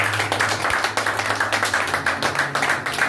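A church congregation claps in quick steady rhythm at a Pentecost service, the dense even claps filling the room with music underneath throughout.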